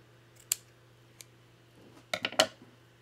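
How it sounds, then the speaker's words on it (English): Scissors cut through glue-covered material for a woodland journal cover, one sharp snip, a faint tick, then a quick cluster of three or four close crisp snips. "I'm going to end up getting my scissors all gluey, but that's okay. I'm going to cut some of this off."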